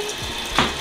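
A mini washing machine in a small apartment pumps out the last of its rinse water, a brief close gurgling gush.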